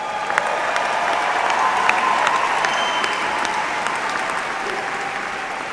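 Graduates and guests at a Texas State University commencement ceremony give sustained, even applause, a loud, dense clapping that holds steady throughout with only faint voices in the crowd.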